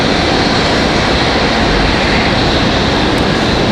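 A Delta Airbus A319 departs for Orlando at Raleigh-Durham airport, its jet engines making a loud, dense, unbroken roar throughout with no pause or change.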